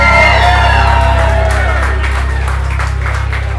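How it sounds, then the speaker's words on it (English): Wedding guests give a loud round of applause for the bride and her father, dense clapping with cheers and whoops over a steady low hum from the venue's sound system, gradually easing off. "applause."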